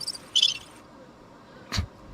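Crickets chirping as a sound effect, a brief high trill at the start followed by a quiet pause and a short thump, faint and sparse with no talking.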